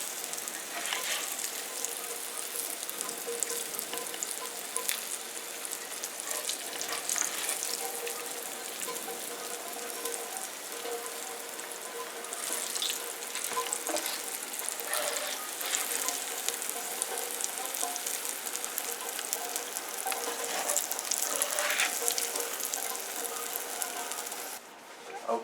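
Okra frying in a skillet gives a steady, close crackling sizzle with fine popping that runs unbroken for the whole stretch, with no voices over it.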